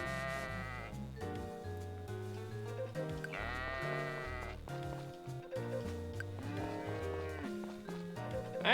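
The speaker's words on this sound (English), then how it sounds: "Get over here, sheep!" Bleating sheep from the farming game Friends of Mineral Town, heard over a bright, steady game music loop with bouncy bass notes; the animal calls are small and mixed into the tune rather than standing alone.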